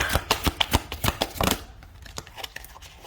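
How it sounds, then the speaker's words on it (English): Tarot cards shuffled by hand in a quick burst of crisp riffling slaps and flutters, close and fairly loud, then trailing off into softer, scattered card handling. "I'm going to pull a few tarot cards for single Sagittarians"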